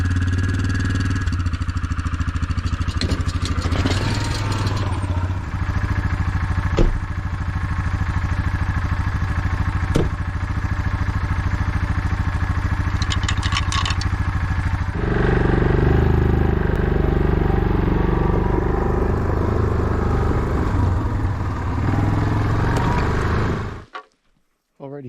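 A quad ATV engine runs steadily close by on a road during a deer and moose hunting trip, a continuous low rumble that grows louder partway through, then cuts off abruptly near the end.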